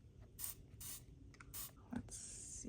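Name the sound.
spraying water onto watercolor paints in palette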